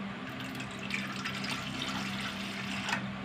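Steady running water with a low hum underneath, a continuous watery wash with no voices, fairly close.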